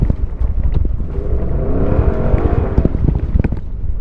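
A Gen 1 Ford Raptor fitted with a Corsa Extreme exhaust climbs a rutted dirt hill, its engine droning loud and steady with rising revs, with no talk over it.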